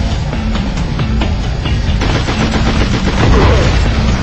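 AK-47 gunfire from the video game SpyHunter Nowhere To Run: loud, rapid bursts of sharp shots repeating over a dense, booming game soundtrack with engine-like rumble underneath.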